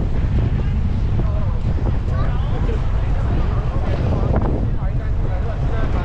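Steady, loud wind buffets the microphone throughout, outdoors at Niagara Falls, Canada, a constant low roar with no letup, while faint voices come through underneath.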